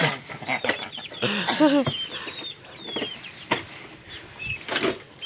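Several young chickens cluck and chatter nearby on a mountain farm in short, irregular bursts, with a few louder squawks and some faint background voices.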